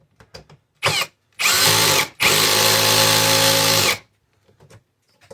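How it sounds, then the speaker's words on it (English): A brushless screwdriver drives a screw into a loose refrigerator door handle in two loud, sustained bursts of whirring and hammering rattle, with a shorter spin-up burst and soft handling clicks before and after. "This is a brushless screwdriver, so kind of acts like a hammer"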